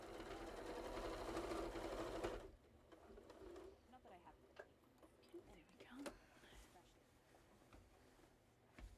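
Sewing machine stitching quilting around a seal figure on a quilt, a loud, fast continuous whir for about two seconds, then stopping, followed by faint scattered clicks and handling noises in a quiet room.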